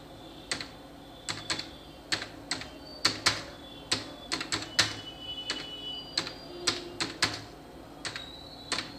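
Keys typed on a computer keyboard while entering text in a word processor, a steady series of sharp, close clicks in short bursts with small pauses between, heard alone in a quiet room.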